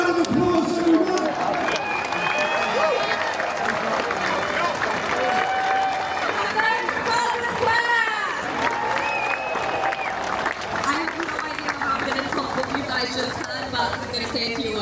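An audience applauds and cheers steadily throughout a talk event, with a few voices and shouts mixed into the sustained clapping.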